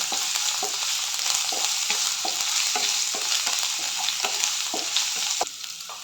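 Green chilli, ginger and garlic sautéing in a pan for chicken cutlet, a steady close sizzle with regular scraping stirs from a spatula, alone without talk.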